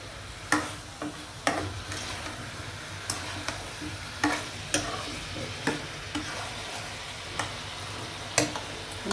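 Spices sauté in a pan for a shol fish curry with bottle gourd, giving a low, steady sizzle. A spatula knocks and scrapes against the pan at irregular intervals, producing sharp ticking clicks throughout.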